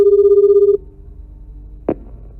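A telephone bell rings steadily for under a second, then cuts off; a brief knock follows in a quiet room.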